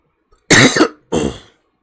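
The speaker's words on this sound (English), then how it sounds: "Every so often, you will hear a cough." Two sharp coughs close to the mic, the second a little softer, with silence around them.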